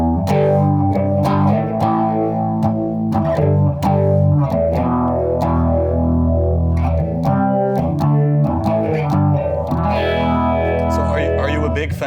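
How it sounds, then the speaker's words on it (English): Heavily distorted electric guitar with layered, stacked effects, chords ringing loud and saturated with a chorus-like shimmer throughout. "Now let's stack some distortion."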